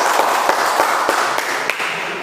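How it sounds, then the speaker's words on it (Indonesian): A class applauding a student's answer during a physics lesson on Hooke's law, with a dense, even clapping from a room full of people, fairly loud and sustained, and scattered sharper claps standing out. "tepuk tangan untuk jawabannya"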